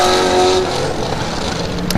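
An LS-powered race car roars down the front straight at Buttonwillow during a GTA season finals session, a loud steady engine drone holding close and strong before easing slightly as it passes.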